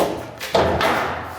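A cabinet section for a garage storage system is lowered and dropped into position, landing with a single solid thud followed by a brief duller knock, close and fairly loud.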